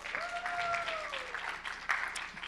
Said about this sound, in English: Let's give one big round of applause for our judges one more time.